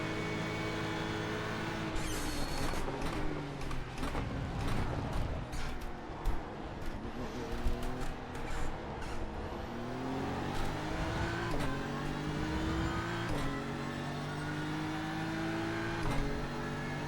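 Porsche GT3 race car engines in a sim racing championship, several cars roaring close together with steady high revs, rising and falling pitch through gear shifts and corners, a dense continuous engine drone throughout.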